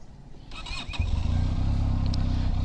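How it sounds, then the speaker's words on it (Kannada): Benelli TRK502X motorcycle engine settling into a deep, loud, steady idle after a brief rev and some high squeaks at the start, close by with no talk. "ಎಕ್ಸಾಸ್ಟ್ ಸೌಂಡ್ ನೋಡ್ಬೋದು ಯಾವ ಥರ ಇದೆ ಅಂತ."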